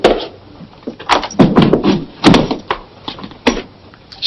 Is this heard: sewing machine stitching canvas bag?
no